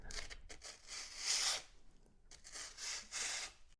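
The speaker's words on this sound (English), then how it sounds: "I'm going to fold this sandpaper in half and I'm going to put it inside the groove where that weather stripping goes" Sandpaper folded in half rubs back and forth in the weather-stripping groove of a damaged wooden entry door jamb, making close, raspy scratching strokes in an uneven rhythm of about five passes with short gaps between them.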